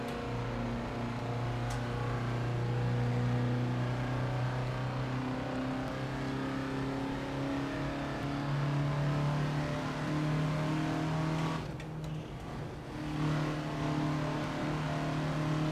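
Small Reliant Robin engine held under steady throttle around Bathurst in a racing game, a continuous buzzing drone with shifting pitch, briefly dipping and roughening near the end before picking back up.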